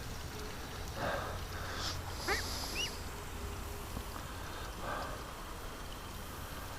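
A hurt duck gives a few short quacks in a barn among other ducks. The quacks are soft and spaced apart over a steady low background hum.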